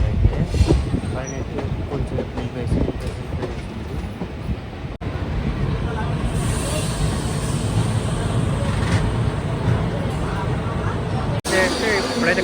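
A passenger train on the Hyderabad to Goa route rolls along near Kacheguda, heard from inside a general coach as a loud, steady rumble with clattering wheels and brief squeals, while people talk over it.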